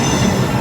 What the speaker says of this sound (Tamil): எக்ஸ்பிரஸ் கிளம்பியாச்சுங்க ஈரோடு ஜங்ஷன் விட்டு.